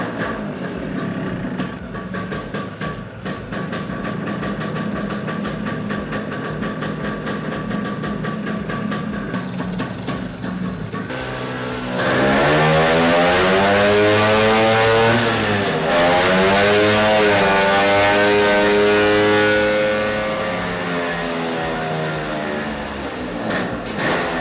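An engine idles with a steady rumble, then catches and revs up into a louder, rising and falling roar that settles into a steady run.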